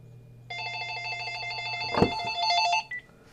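A telephone rings in a steady electronic warble for about two seconds, fairly close, with a single dull thump partway through and a brief chirp as it stops; no one speaks.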